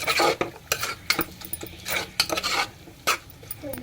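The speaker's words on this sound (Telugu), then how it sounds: "ఇలా మటన్ అనేది కలుపుకోవాలండి." A spoon scrapes and stirs mutton through brinjal curry in a sizzling pan, irregular rasping sweeps and metallic clinks over a low fry hiss, close and moderately loud, with no speech.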